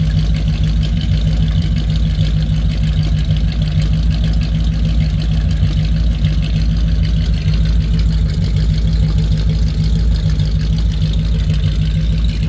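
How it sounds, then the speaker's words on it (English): A 1940 Ford flathead cop car with new Fenton exhaust headers and dual mufflers idles nearby, holding a steady, deep, even burble throughout with no talking. "Got brand new Fenton exhaust manifolds on it, and they put two real nice sounding mufflers on it."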